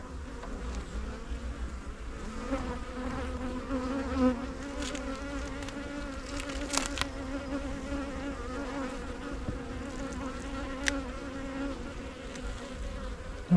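A steady, sustained hum of honey bees fills an open hive during inspection, close and continuous, with individual insects droning near the microphone and a few brief sharp ticks over the buzz.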